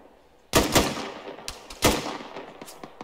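An anti-aircraft machine gun in the military game ArmA fires two sharp, loud bursts about a second apart, each followed by quieter scattered shots echoing nearby.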